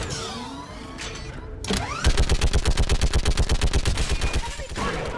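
A mounted gun in Mass Effect 3 opens up in a rapid, evenly spaced automatic stream of loud shots lasting about two and a half seconds, preceded by mechanical whooshing battle noise and followed by fading combat sounds.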